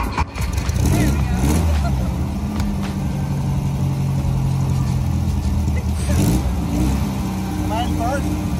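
Diesel ramp truck engine revving as it pulls away, a steady close rumble with rising rev swells, heard under people talking.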